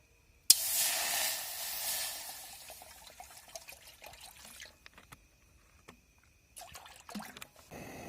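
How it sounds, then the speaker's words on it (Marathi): Water gushes loudly into a pot at a forest campsite for a couple of seconds, then trails off into quieter splashes and light clinks. "आता मी टाकतोय पाणी"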